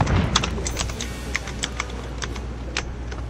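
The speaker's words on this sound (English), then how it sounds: "They want to go out and get the loudest mechanical keyboard they can." Rapid clicky typing on a loud mechanical keyboard, a steady patter of sharp keystrokes close to the microphone, with no voices, heard during a Sea of Thieves gaming session.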